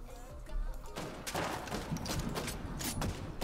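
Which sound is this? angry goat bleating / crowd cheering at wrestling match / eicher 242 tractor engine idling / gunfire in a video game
gunfire in a video game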